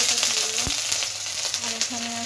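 Bay leaves and dried red chilies sizzle steadily in hot oil for a Bengali rohu fish curry, a continuous close frying hiss with a sharp crackle partway through and no talking.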